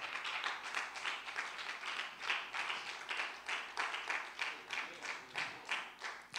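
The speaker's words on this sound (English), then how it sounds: "give God a big hand clap of praise" Congregation clapping hands in praise during a church service, a steady rhythmic clap repeating evenly throughout, moderately faint and heard alone without talk.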